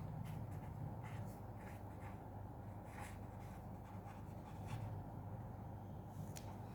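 Chalk or marker strokes scratch across a board as a teacher writes notes during a biology lesson on lysosomes, a steady run of short rubbing strokes over a constant low room hum.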